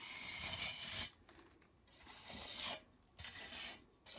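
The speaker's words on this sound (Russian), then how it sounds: "Срезаем края торцом кельмы." A trowel edge scrapes the sharp ridges off drying decorative plaster on a wall in long rasping strokes, three or four passes separated by short pauses, close and quiet with no talk.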